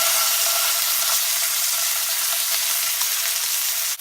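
A seabass fillet hisses in a hot frying pan as it is flipped, a close, loud, continuous sizzle that stays steady throughout, with no talk.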